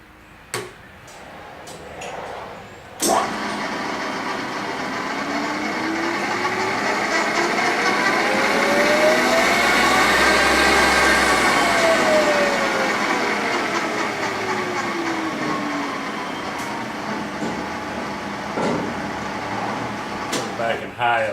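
An Acer Ultima 3VK milling machine with a 10x50 table runs in low gear, a steady broad mechanical hum with a whining tone that rises and falls in pitch, continuous and fairly close after a brief start.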